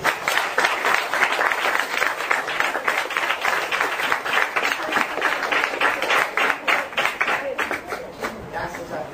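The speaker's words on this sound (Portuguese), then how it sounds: "Palmas para o Senhor Jesus." A church congregation applauds during a sermon, dense sustained clapping from many hands with rhythmic surges, a voice calling out over the crowd.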